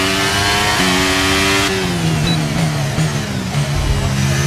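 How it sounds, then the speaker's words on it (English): A high-pitched F1 car engine in the video game F1 23 screams steadily, shifting gears with sudden pitch steps, loud and continuous with no talking. "out on track, listen to that engine"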